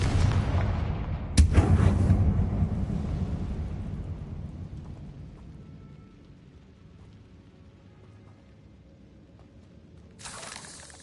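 Two blasts of the Confringo fire spell in Hogwarts Legacy: a booming explosion with a long rumbling decay, then a second sharp burst near the end, loud and close.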